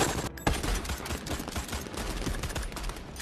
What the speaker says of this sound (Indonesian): dan terjadi adu tembak.